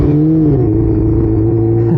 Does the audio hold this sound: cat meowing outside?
no